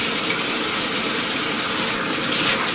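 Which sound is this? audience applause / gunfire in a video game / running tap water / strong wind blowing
running tap water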